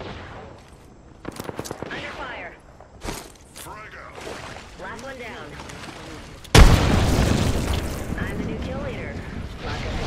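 Apex Legends video game gunfire: a sudden loud burst of shots and blasts erupts partway through and continues densely, following stretches of a voice speaking over quieter game sounds.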